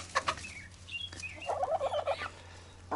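Chickens cluck and call in a backyard flock that includes a small white rooster, a few short clucks followed by a burst of quick, close squawking chatter over a low steady hum.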